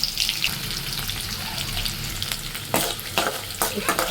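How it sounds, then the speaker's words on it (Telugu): Constant loud crackling sizzle of mustard seeds and curry leaves frying in hot oil for upma tempering, punctuated by a few sharp bursts as more ingredients hit the pan. "ఇలా ఆయిల్ బాగా వేడెక్కాక పోపు దినుసులు కరివేపాకు వేసుకోవాలి"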